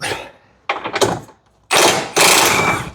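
An impact gun takes out a crusty 15mm bolt on the rear axle bushes of an MK7 Fiesta, in loud close bursts of rapid hammering, with the last two long runs separated by a brief pause.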